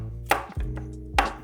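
A hard kitchen knife chops through the back and wing bones of a dried duck: two sharp, close cracking hits about a second apart over a low steady hum.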